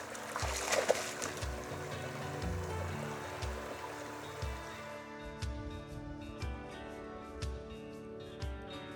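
Creek water flowing over rocks in a quiet natural setting, a soft continuous trickling wash with occasional low knocks and bumps close by, no talking.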